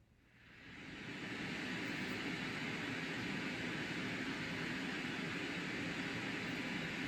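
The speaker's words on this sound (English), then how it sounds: "You can do white noise." White noise from a Hatch Rest baby sound machine swells in over the first second, then holds as a steady, even broadband hiss, loud and unbroken with no other sounds.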